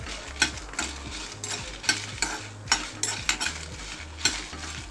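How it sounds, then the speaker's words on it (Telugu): Cumin seeds and spices crackle in hot oil in a pan for kandi pachadi, with a rhythmic series of scraping stirs and spoon knocks over a continuous sizzle, close and without talk. "బాగా వేయించుకోండి."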